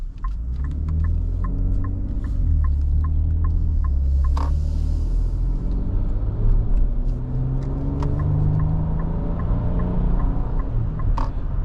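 A 2026 Nissan Armada NISMO twin-turbo V6 luxury SUV accelerates with a deep, steady rumbling engine hum, heard from inside the cabin, while faint ticking clicks repeat over the top.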